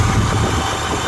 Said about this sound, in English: Real nice, quiet, good runner motor. I love these 400Ms.